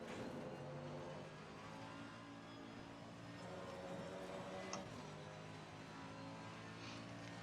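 Naturally aspirated Mercedes-AMG GT3 EVO race car engine in the racing game Assetto Corsa Competizione, a faint steady engine drone that holds fairly even throughout, with no talk.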